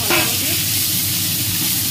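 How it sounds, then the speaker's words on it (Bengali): Chicken pieces sizzle loudly in a hot pan as a spoon stirs and scrapes through them, a steady dense frying hiss heard up close without speech. "এই চিকেনটা একটু নাড়িয়ে চাড়িয়ে দেবো।"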